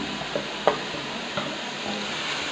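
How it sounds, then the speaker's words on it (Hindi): Spices with green chilli, black pepper and turmeric frying in a pan, a soft continuous sizzle with a few light clicks of a spoon, close and moderately quiet. "अब ये 10-15 मिनट हम ये भूनेंगे"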